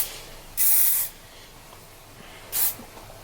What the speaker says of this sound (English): So I just put a little bit in because I don't really like the feel of hairspray that much.